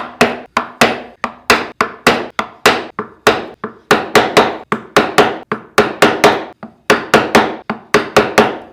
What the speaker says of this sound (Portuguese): Formão fino 90 graus, lado reto para a parede, eu vou batendo de pé.